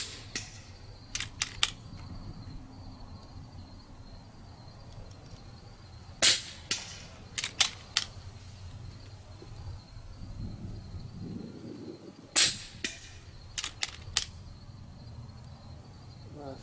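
Shots from an FX Crown and a KIDD 10/22 rifle at an outdoor range: several sharp cracks spaced across the span, some in quick pairs, over faint insect chirring and wind, with low talk now and then.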